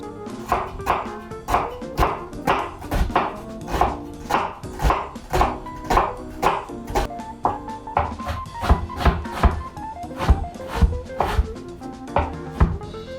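A knife chops a red onion on a cutting board with rapid, steady, sharp thuds. Just over a dozen seconds of close, even strokes are heard with no talking.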